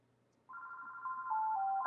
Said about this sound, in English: And my phone is ringing, which is funny because I unplugged it.